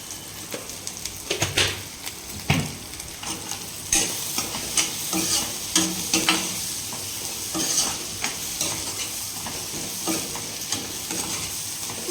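Green chilli egg fry cooking in a pan gives a steady close sizzle throughout, with repeated spatula scrapes and stirring knocks at irregular intervals and no speech.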